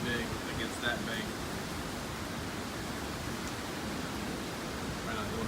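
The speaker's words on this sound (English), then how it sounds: "Waves are getting pretty big against that bank." Waves pound against a bank during Hurricane Florence, a broad, constant roar of surf mixed with wind, heard steadily from nearby, with a voice faintly underneath.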